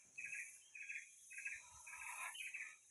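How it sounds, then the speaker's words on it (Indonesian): Trocok and gentilang birds sing along a mountain trail to Watu Jengger peak in Mojokerto, several short bright chirping phrases repeating in quick succession over a faint steady insect drone, fairly distant and quiet. "Burung trocok ada."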